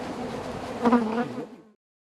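Africanized honeybees buzzing around a hive, a close, steady droning hum that swells briefly and then cuts off before two seconds, with no talking.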